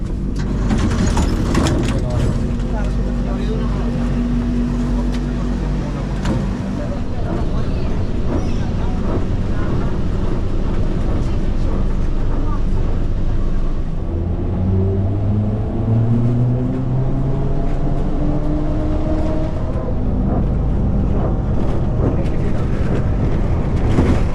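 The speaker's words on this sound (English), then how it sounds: "it is a very cool old electric trolley bus" Old electric trolley bus riding through Transnistria toward Bender: a steady, loud onboard rumble of motor and road noise with rising electric whine tones, voices talking throughout.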